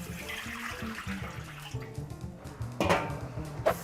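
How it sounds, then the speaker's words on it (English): Tap water runs into a wok before broccoli is blanched, a fairly quiet splashing stream with clinking in a kitchen, and the pour gets louder near the end. "fill it up with some water to blanch the broccoli"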